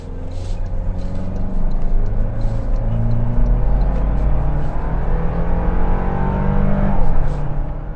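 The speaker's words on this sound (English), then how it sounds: "That turbo, you can hear it spool up." A 2024 Toyota Land Cruiser accelerating hard from a stop, a loud steady engine drone rising in pitch through the gears with turbo spool, heard from inside the cabin.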